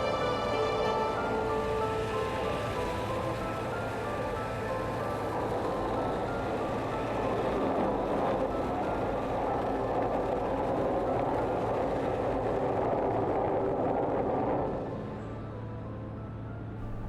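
A train rumbles across a railway viaduct above a canal, heard from a narrowboat passing beneath: a loud, sustained rolling roar with steady rhythmic clatter that fades away near the end.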